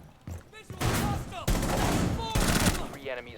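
Heavy automatic gunfire in Rainbow Six Siege, three long dense bursts of rapid shots, loud and close, with brief voice fragments between them.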